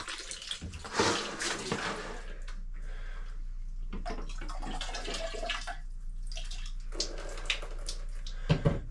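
Water draining out of used well water filters, splashing and dribbling unevenly with bursts of louder gushing and clunks, close by and with no talk.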